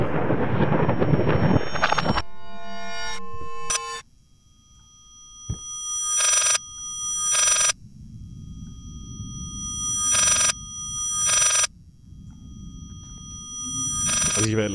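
A telephone rings in the Layers of Fear horror video game, sounding in four or five separate bursts with silent gaps between them, over an eerie electronic tone and a low ambient hum.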